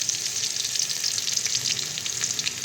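Green chillies roast in a hot pan with a steady, close sizzle and crackle that runs evenly throughout, with no talking.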